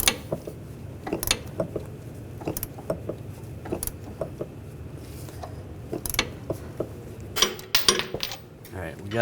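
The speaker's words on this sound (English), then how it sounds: "we're going to use an 18mm wrench on the nut" Small metallic clicks and clinks of an 18mm wrench and M6 triple square socket working a front sway bar link nut on a 2009-2017 Volkswagen Tiguan, scattered and close over a low background hum.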